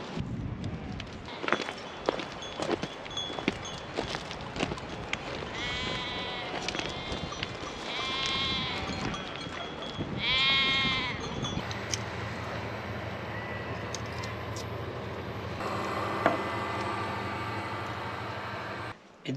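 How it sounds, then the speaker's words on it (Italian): A flock of sheep with lambs bleats outdoors on Crete, with three loud, wavering calls standing out over a steady rustle of footsteps and movement from the animals. "Nel frattempo sono arrivate tutte le pecore con gli agnellini."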